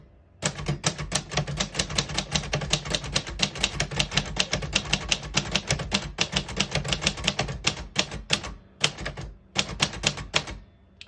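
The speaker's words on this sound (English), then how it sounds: "we're going to type the sentence in red" Typing on a 1966 Royal Safari vintage portable typewriter with a red and black ribbon, heard as a close, steady rapid stream of mechanical key strikes with a few brief pauses and no voices.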